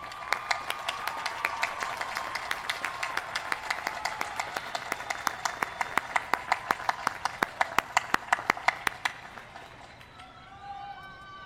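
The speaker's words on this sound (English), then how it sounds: "give those special people a well-deserved round of applause" A graduation-ceremony crowd claps for the graduates' supporters, a dense wash of many hands with sharp individual claps standing out. It runs steadily for about nine seconds, then thins and fades.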